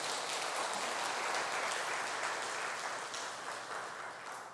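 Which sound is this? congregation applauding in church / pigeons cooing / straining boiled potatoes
congregation applauding in church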